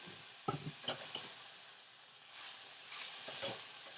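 Chicken and shrimp being stirred in a hot pan for Alfredo, a soft steady sizzle with a few scraping stirs near the start, quiet and close.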